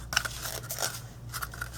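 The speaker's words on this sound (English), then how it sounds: "a little bit over where I want it, and just cut that off" Scissors cut through celebration ribbon in a couple of short, crisp snips close by, over a quiet background hum.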